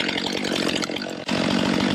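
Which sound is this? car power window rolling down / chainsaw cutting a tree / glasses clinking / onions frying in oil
chainsaw cutting a tree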